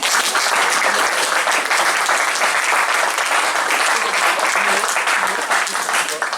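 Sustained, dense applause from a large audience at a church Christmas celebration, loud and continuous for several seconds with no voices on top.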